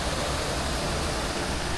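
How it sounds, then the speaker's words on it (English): A waterfall in the Japanese Alps, a dense, loud, unbroken roar of falling water heard up close, steady throughout with no voices. "Check out this waterfall right here"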